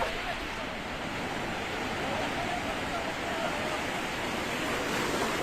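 Ocean surf rushes in a continuous roar at Cox's Bazar, with wind noise buffeting the microphone throughout.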